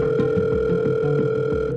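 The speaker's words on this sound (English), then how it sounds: "We start making our phone calls." A steady telephone dial tone hums continuously, clear and unbroken, with faint low rumbling underneath as a phone call is being placed.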